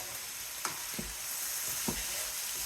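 Rotisserie chicken fried rice sizzles in a pan with a steady frying hiss. A few soft scrapes and taps of stirring break through, and no one talks.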